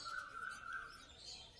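Caged birds at the Garia bird market, including finches and cockatiels, chirp in a faint, steady tweeting chorus from some distance away.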